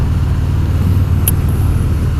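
A 2019 Harley-Davidson FXDR motorcycle rides down the road, giving a steady, loud low engine rumble mixed with wind and road noise, with no talking.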